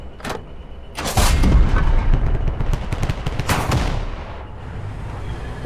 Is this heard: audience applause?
no